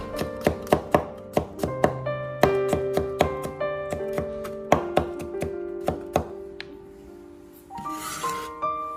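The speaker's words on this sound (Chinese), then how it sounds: "切好之后再改刀，把蒜片切成细丝。" A kitchen knife chops two garlic cloves, already sliced thin, into fine shreds on a cutting board, a steady run of close, crisp taps with brief pauses, heard alone.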